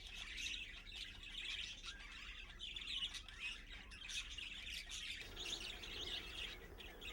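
A flock of feral budgies chirps and chatters around fenced backyard feeders in Florida, a continuous busy twittering at moderate distance with no speech.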